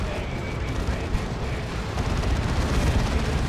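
Explosive blasts and rumbling battle fire as a Land Raider tank is destroyed in the Dawn of War 2 strategy game during a Space Marines versus Chaos match, a dense continuous roar that builds slightly toward the end.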